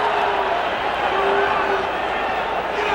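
Loud, dense roar of a boxing arena crowd cheering during a Sugar Ray Leonard versus Floyd Mayweather bout, a steady wash of massed voices lasting throughout, with commentary talk running over it.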